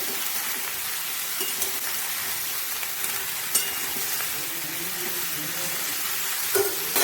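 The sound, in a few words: mixed vegetables frying in a pan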